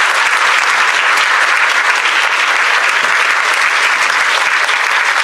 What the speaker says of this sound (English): Let's give them a big round of applause as they return to their seats